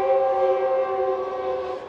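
A train horn sounds one sustained, loud, chord-like blast that holds steady for about two seconds.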